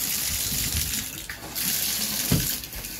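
A shower runs in the bathroom of a 1979 Silvercrest double-wide mobile home, giving a steady close hiss of spraying water with small splashes and no talk.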